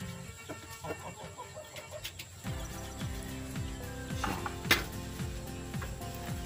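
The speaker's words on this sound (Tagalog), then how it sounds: "Ito po yung ating pinakamalaking tandang." A mature Rhode Island Red rooster, about a year old, clucks among chickens, its repeated rhythmic clucks close and clear with some faint mechanical background noise.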